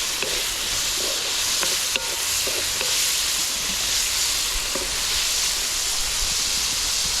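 Shrimp sizzles in a pan over an outdoor woodfire, a steady close frying hiss with occasional clicks of stirring, no talking.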